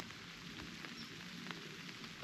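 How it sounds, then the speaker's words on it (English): Steady rain falling outdoors during a late-morning bowhunt in Iowa, a continuous broadband patter with occasional sharper drops close by, no voices. "It is now raining."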